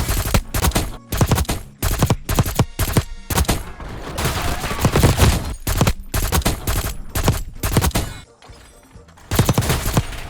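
Rapid automatic gunfire from the MP7 submachine gun in the original Call of Duty: Modern Warfare 3, loud, close bursts of sharp shots broken by brief pauses across the whole stretch.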